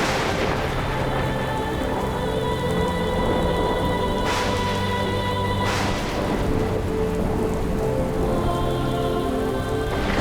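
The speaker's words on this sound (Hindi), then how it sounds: "ऐसी भी वर्षा नहीं हो रही कि लोग आ ना सके।" Heavy rain pours steadily and loudly throughout, with a few brief louder bursts suggesting thunder, and nobody speaks.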